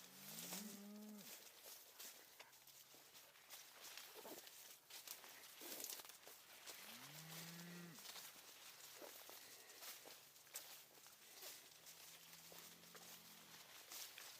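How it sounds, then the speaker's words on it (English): Grass-fed beef cattle in a wet Minnesota field low out in several drawn-out moos, a few of them close and others fainter, with footsteps tramping through the damp grass between the calls. "approaching the cow-calf group on the east end of the field"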